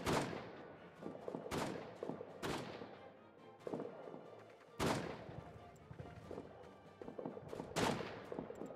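Covering gunfire in the trench-warfare game All Quiet in the Trenches: several sharp, loud shots at irregular intervals stand out over a steady rumbling battlefield background.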